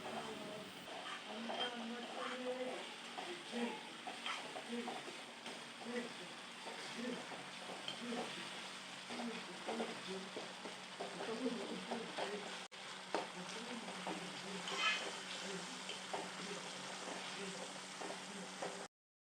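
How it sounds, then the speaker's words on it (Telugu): Tomatoes cook down in a pan for a tomato dish, giving a steady, soft, continuous sizzle and bubbling that stays at a low, even level throughout. "మరో 5 నిమిషాలు టమాటాలని ఉడకనివ్వాలి."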